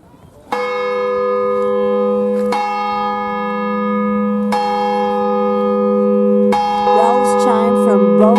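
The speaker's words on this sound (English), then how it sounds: "Bells chime from both of the steeples." Large church bells ring from the steeples in Tavira, Portugal, sounding four loud, resonant strokes spaced about two seconds apart, each leaving a long humming decay, with a faster jangling peal joining near the end.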